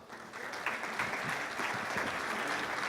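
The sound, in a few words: audience applause welcoming speakers on stage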